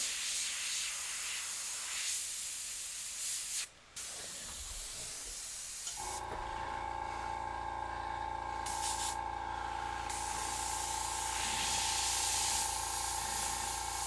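Airbrush hissing steadily as it sprays paint, a continuous airy spray broken by a short pause near the start, then resuming with a steadier tone alongside a constant low hum.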